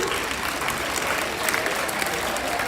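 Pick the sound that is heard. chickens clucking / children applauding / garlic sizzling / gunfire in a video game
children applauding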